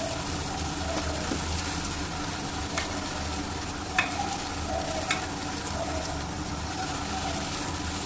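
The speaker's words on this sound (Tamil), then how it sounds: "இப்போ இதை நல்லா கிளறி விட்டுக்கலாம்" Bitter gourd and tomato are stir-fried in oil in a pan. A continuous sizzle runs throughout, with occasional spatula scrapes and clinks against the pan standing out near and clear, and no one speaks.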